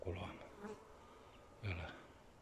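A honeybee swarm buzzes at beehives outdoors in spring, a close droning hum that rises in two louder passes over a steady quieter background.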